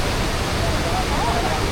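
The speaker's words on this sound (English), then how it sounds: "Busy in terms of there's a lot of water going on." Kuang Si Waterfall near Luang Prabang, a steady broadband roar of heavy rushing water that fills the whole clip without a break, loud and close, with faint voices of people nearby underneath.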